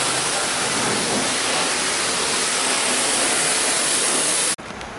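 A truck is sprayed with water during a wash for Krown rust proofing, a steady loud hiss of spray that cuts off sharply near the end, with rain falling around it.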